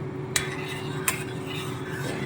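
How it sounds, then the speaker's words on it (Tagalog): A spoon stirs a mixture in a pot in a home kitchen, giving two distinct clinks against the metal about 0.7 seconds apart over a steady low background hum. "Stir mo ng konti."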